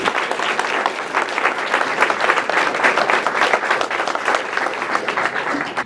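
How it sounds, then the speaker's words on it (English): A crowd claps steadily and loudly throughout, dense applause with no break and no voices standing out. "One more round of applause for her"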